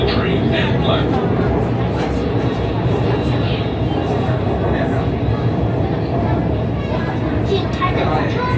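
Shenzhen Metro Line 11 (Airport Line) train pulling into a station, a loud, steady rumble of wheels and carriage noise throughout, with an announcement voice over it.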